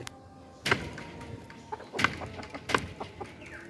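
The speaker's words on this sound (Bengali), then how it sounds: "দুইটা সিল্কি মুরগি" Silkie chickens cluck in short bursts nearby, mixed with sharp rustling and flapping thumps as they move about.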